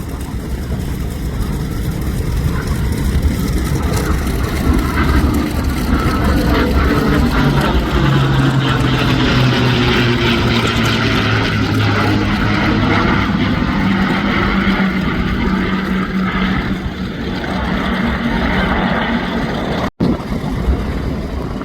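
Vintage warplanes fly in formation at the Central Coast Airfest 2024, a loud, continuous engine roar that swells and shifts in pitch as the aircraft pass overhead.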